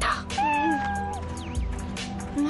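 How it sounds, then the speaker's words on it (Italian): A cat gives a close meow, then a smaller second mew, over a faint indoor background. "Maledetta gatta."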